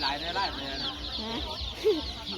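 Chickens raised for meat at a Thai open-air market cluck and squawk in short bursts, fairly near, over a steady murmur of crowd noise and faint voices.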